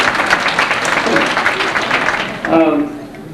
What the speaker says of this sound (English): Everybody applaud, because you know that way you get down at 8.